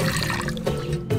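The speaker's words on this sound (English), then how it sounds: "fill with warm water" Warm water pours steadily into a bowl of wet yeast in a village kitchen, a brief continuous splashing fill heard up close without talk.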